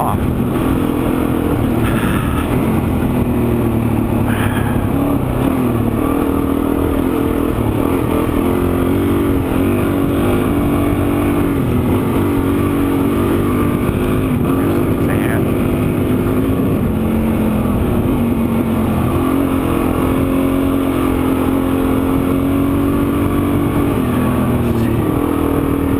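A dual sport motorcycle rides through a sandy wash at Camp Creek in Arizona, its engine droning steadily and close for the whole stretch, with throttle rising and easing and a faint voice now and then.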